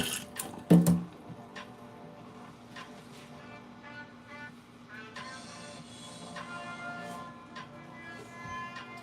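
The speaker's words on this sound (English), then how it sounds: "Just washing my hands." A kitchen tap runs while hands are washed under it during biscuit baking, a soft steady water stream with faint splashing, fairly quiet and heard alone.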